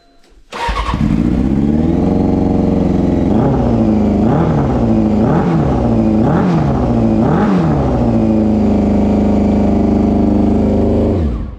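A motorcycle engine starts with a sudden catch, then runs loud and close, with several short rising and falling revs before settling into a steady idle; the recording comes from a GoPro.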